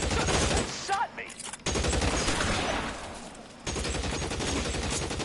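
Rapid gunfire in a shooter video game, dense bursts of automatic shots that fill most of the stretch and break off briefly partway through, loud and close.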